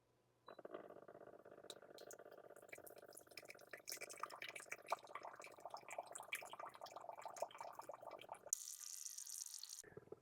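Water runs steadily from a countertop reverse osmosis filter system set to dispense 10 ounces, a soft continuous trickle with dripping that stops abruptly near the end, followed by a brief different hiss.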